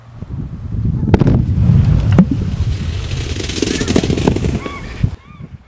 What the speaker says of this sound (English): we've just let off an explosion. It was just after 11 o'clock, so there was an initial boom and the ground shook.